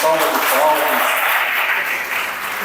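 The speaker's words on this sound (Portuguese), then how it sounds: "Vamos dar mais uma salva de palmas." Members of a church congregation give a round of applause welcoming newcomers to the area, a loud dense clatter of many hands that stays full and steady, easing slightly toward the end.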